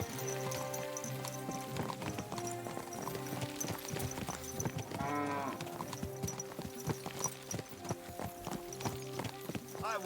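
Rapid rhythmic hoofbeats of a galloping horse in the video game Kingdom Come: Deliverance II clatter throughout, with a horse whinny midway and some voices and background music.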